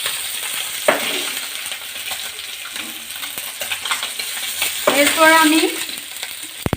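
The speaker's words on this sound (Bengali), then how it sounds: "বন্ধুরা, আমার মাছ ভাজা হয়ে গেছে, এখন তুলে নেব।" Koral fish fries in hot oil with a steady sizzle, broken by sharp stirring clatters and a louder crackling burst near the end. A voice speaks briefly.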